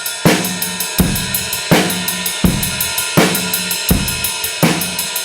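Fast 16-beat drum pattern with sixteenth notes played on a cymbal, a continuous bright ticking over regular kick and snare hits, loud and steady, no voice.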